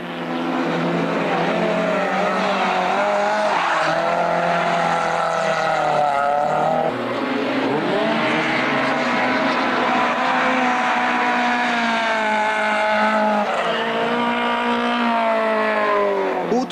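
An Opel Corsa rally car at a Maasmechelen rally event, its engine revving loud and continuous with rising and falling pitch as it is driven hard, close by, with no voices.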